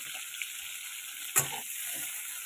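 Food sizzles steadily in a pan on a home stove, a constant close hiss broken by one sharp utensil clunk partway through.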